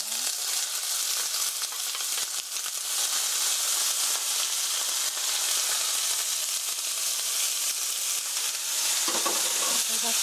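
Garlic, onion and paprika stir-fry in a hot pan with a loud, continuous sizzle and crackle that holds steady at close range, with faint stirring mixed in.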